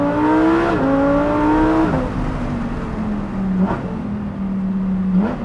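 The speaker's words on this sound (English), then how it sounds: "Downshifting, the dual clutches, very smooth. Getting on power." A high-performance sports car on a race track with a dual-clutch gearbox roars loudly and close, its engine note stepping down through quick downshifts and then pulling steadily as it gets back on power.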